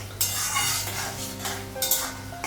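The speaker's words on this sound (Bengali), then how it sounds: "পেঁয়াজটা একটু লাল করে ভেজে নেব, তারপর মশলাটা লাগাবো।" A spatula stirs onion and green chilli frying in oil in a pan, giving quiet scraping and a few light metallic clinks over a soft sizzle.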